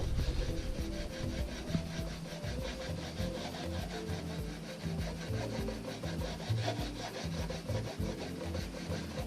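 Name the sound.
rubbing longbow wood with a piece of wood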